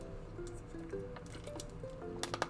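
A plastic water bottle is squeezed close up, giving faint scattered crinkles and soft crackling snaps, with louder sharp crackles near the end.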